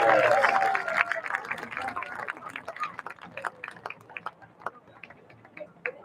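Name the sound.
crowd applause for cross-country seniors at football game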